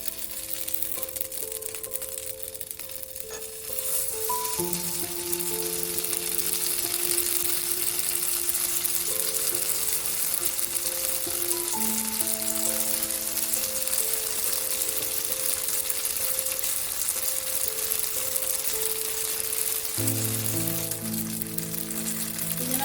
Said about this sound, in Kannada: ನಾನು ಈ ಥರ ಶಾಲೋ ಫ್ರೈ ಮಾಡೋಕ್ಕೆ ಸ್ವಲ್ಪ ಎಣ್ಣೆ ಹಾಕ್ಕೊಂಡಿದ್ದೀನಿ.